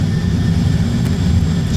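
Airbus A320 jet engines in reverse thrust during landing rollout, a loud, steady, dense roar that holds without a break.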